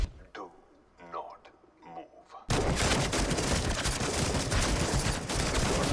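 Heavy, continuous gunfire erupts in a scene from the Malayalam action film L2: Empuraan, loud and dense, following a few seconds of dialogue.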